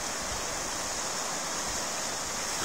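The River Irvine in Ayrshire rushes along at a steady, even level, a broad hiss of flowing water heard alone with no voices.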